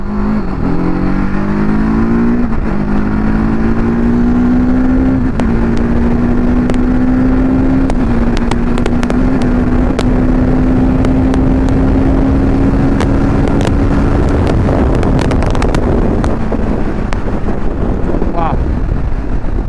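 A TVS Apache RTR 310 motorcycle is held at full throttle in second gear, its engine note rising steadily through a long loud pull under heavy wind roar, close to the microphone.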